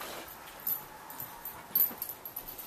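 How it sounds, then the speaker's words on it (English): A dog locked up indoors whimpers in short, thin whines and yips that come in small bursts over quiet room tone, with no talking. "that's that dog being locked up"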